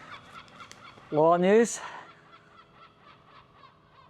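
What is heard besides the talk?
seagull calling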